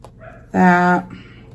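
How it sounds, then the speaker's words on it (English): A single drawn-out, strained dog bark or yelp rings out loud and close for about half a second, with quiet room noise before and after. "Sorry, my dog's barking."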